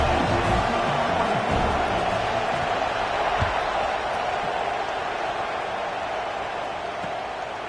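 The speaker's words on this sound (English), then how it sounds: "this crowd is buzzing after that last score" A football stadium crowd buzzing after a score, a dense, loud, continuous roar of many voices that holds steady and fades only slightly.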